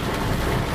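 Heavy rain pours down in a violent thunderstorm, a dense, steady hiss of downpour filling the whole brief moment with no voices.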